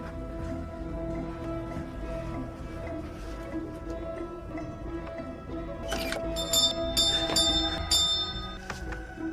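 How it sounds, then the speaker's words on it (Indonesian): A hotel lobby bell rings in a horror film scene, heard as several clear metallic bell strikes in the last few seconds over a low, steady ambient background. "di lobi hotel ada lonceng yang terhubung dengan kamar ini"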